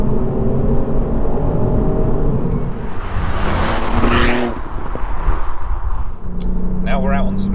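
A Ford Fiesta ST Performance Edition driven hard on twisty roads with rough, broken surfaces: a loud engine rumble swells and eases with gear changes, and a voice talks over parts of it.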